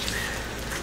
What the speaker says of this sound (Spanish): Como raro, otra vez está lloviendo en Bogotá.